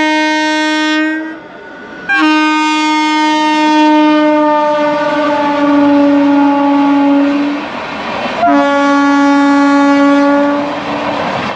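The Puri–Shalimar Express passes at a station crossing near Bagnan, its loud horn sounding in three long, close blasts over rumbling wheels.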